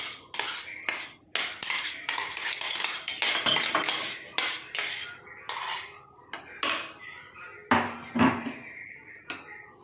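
Thick ground paste is scraped from a blender jar into a bowl with a metal spoon, giving a string of irregular clinks, taps and scraping knocks of metal on the jar, close and clear, with no talking.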